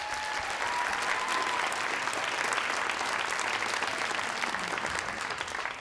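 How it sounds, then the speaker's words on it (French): Sustained applause from an audience at an awards ceremony, a steady dense patter of clapping that stays loud and even throughout. "Une autre bonne main d'applaudissement pour Lucas Lancelot"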